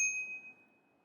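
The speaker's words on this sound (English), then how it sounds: "The bike also comes with a bell." The bell on a Mooncool MC3 AWD electric bike rings once, a bright metallic ding that rings on and fades over about half a second, close and clear against a quiet background.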